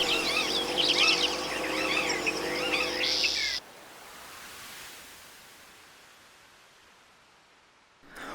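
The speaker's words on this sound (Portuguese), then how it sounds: "Nas matas, era comum ver a imagem e ouvir o canto da gralha azul." Calls of the azure jay (gralha azul) in Brazilian Atlantic forest near Curitiba, a dense run of loud chirping, overlapping bird notes for about three and a half seconds, then cut off to a faint hiss.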